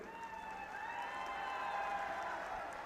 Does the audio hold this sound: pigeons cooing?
no